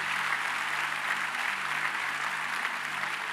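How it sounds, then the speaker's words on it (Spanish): A church congregation claps steadily during a worship service, a thick, continuous wash of applause with a faint low musical hum underneath and no talk. "Den un aplauso fuerte al Señor."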